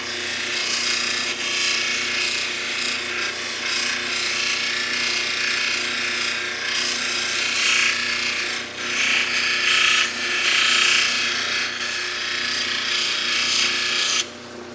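Cabbing wheel with 3000 grit polishing a piece of Wonderstone: a continuous close whirring grind with a steady motor hum underneath, swelling slightly as the stone is pressed, with no talking.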